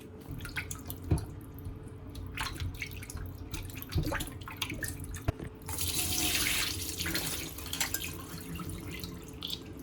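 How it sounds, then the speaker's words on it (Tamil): Raw chicken, about 250 grams, rinsed under a running kitchen tap for soup, with steady water flow splashing and dripping into a sink, brief knocks and a louder gush near the end, no talking. "நான் 250 கிராம் சிக்கன் எடுத்து வச்சுருக்கேன். இதை கழுகி எடுத்துக்கலாம்."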